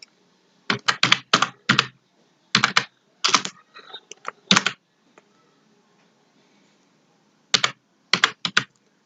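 Several quick bursts of clicking keystrokes sound on a computer keyboard as a word is typed, close and crisp, with short pauses between clusters and a longer gap before a final flurry.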